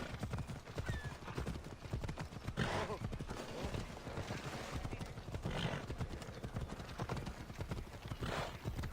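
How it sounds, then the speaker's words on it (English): Rapid hoofbeats of a horse, here ridden as a unicorn Pegasus, gallop steadily through Assassin's Creed Odyssey, a continuous clip-clop rhythm at close range with occasional whinnies and a voice talking over it. "I'm just riding a unicorn Pegasus around"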